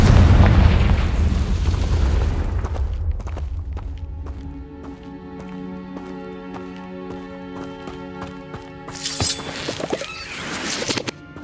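A Confringo fire spell in Hogwarts Legacy goes off as a heavy, loud boom that decays into lingering ringing tones, followed by a further burst of noise near the end.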